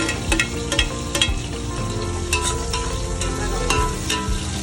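Chopped onions fry in hot oil for a home-made mutton pulao, a steady close sizzle and crackle with occasional clicks and scrapes from a stirring spoon, no voices.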